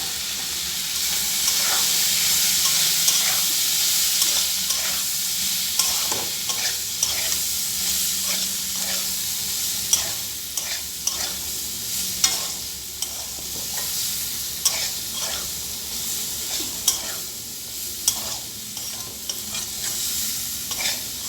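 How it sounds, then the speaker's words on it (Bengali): Marinated soybeans sizzle loudly in a hot pan for raw soybean curry, a constant bright frying hiss broken by repeated scraping clacks of a spoon stirring, without talk. "এখন আগে থেকে ম্যারিনেট করা সয়াবিনটা দিয়ে দেবো।"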